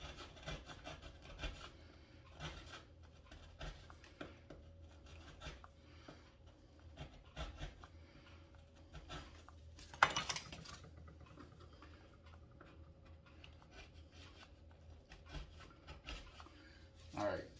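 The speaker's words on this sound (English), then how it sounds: "Now I'll maybe dress up those edges a little bit more with my parting tool." Steel parting tool scraping and dressing the scalloped edge of a wooden pie-crust table top, giving soft, close rubbing strokes in an uneven rhythm with one sharper knock partway through and another near the end.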